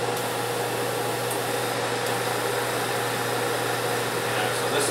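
An air compressor feeding a model-painting spray booth runs continuously, a steady mechanical hum and hiss at constant level with no breaks.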